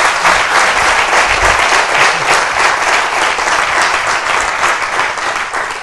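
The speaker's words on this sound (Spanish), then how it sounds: "Un aplauso." Spectators at an international cheese cooking competition give a sustained, loud round of applause: many hands clapping in a thick, even roar that lasts nearly six seconds before easing slightly at the end.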